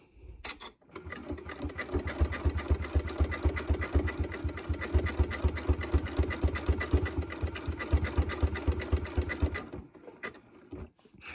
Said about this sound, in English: And we're just going to sew until these stitches start to meet up.